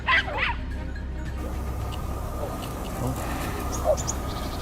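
A hunting dog chasing a wild boar outdoors gives a few short, fairly faint yips and barks, a burst at the start and another near the end, with birds faintly audible in the background.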